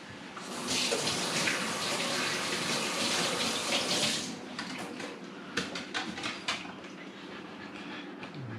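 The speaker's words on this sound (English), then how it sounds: "Just wash my hands off." Hands being rinsed under a running kitchen tap while making bacon burgers, a steady close gush of water for several seconds, then trickles and splashes as the flow stops.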